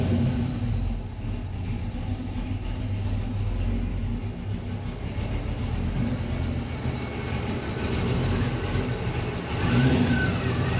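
A project car engine rumbles steadily at idle with occasional rev swells, a continuous low-frequency drone filling the whole stretch with no talking.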